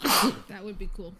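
A single sharp sneeze bursts out at the start, close and loud, followed by a person speaking briefly.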